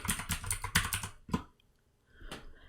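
Quick keystrokes on a computer keyboard land in a dense run, then a few isolated taps follow after a short pause, close and clear with no talk.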